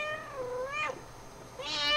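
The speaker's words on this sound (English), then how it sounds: "Where are all the cats coming from?" Cartoonish cat meows in the video game Impossible Mission, two clear, fairly quiet rising-and-falling meows in quick succession with no talk.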